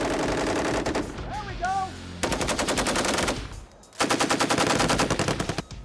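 Marines fire an M240 machine gun in loud, rapid bursts, with a brief pause between volleys, and someone shouts over the gunfire.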